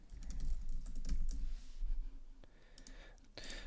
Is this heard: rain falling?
no